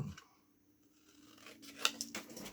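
Scissors snip through patterned paper to cut flaps for a pocket in a handmade mini album, a few quiet close crisp cuts near the end after soft handling sounds.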